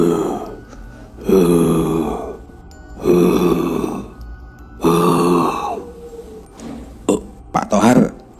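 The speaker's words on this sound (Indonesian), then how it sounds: "mereka mendengar suara seperti dengusan dari banyak makhluk yang diperkirakan berukuran sangat besar" A story sound effect of many huge creatures snorting: about five deep, rough, throaty snorts and grunts in a slow repeating rhythm, loud and close, with a few shorter bursts at the end.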